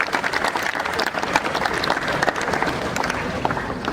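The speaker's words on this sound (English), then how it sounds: "Students, please give them a big round of applause." Sustained applause from a school audience at an investiture ceremony, dense steady clapping filling the whole stretch at even loudness, with no speech over it.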